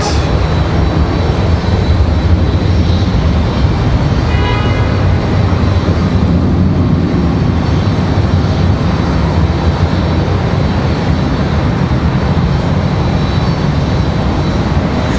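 A Delta airliner departs Raleigh Durham International Airport with a loud, continuous jet roar that holds steady over fifteen seconds, broad and rumbling with a faint whine near the middle.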